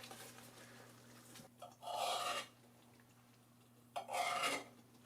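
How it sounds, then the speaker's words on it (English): A spoon rasps and scrapes through beef stew in a cooking pot in two separate bursts of stirring, close by, with quiet pauses between them and no talking. "So adding a bit and give it a good stir."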